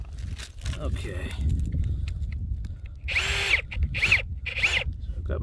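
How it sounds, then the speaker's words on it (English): A 1/8 inch drill bores into steel joint bars while a rail joint is installed, giving three short, loud bursts of whirring in the second half. Rustling and handling noises sit under a voice. "So I've got my 1/8 inch drill."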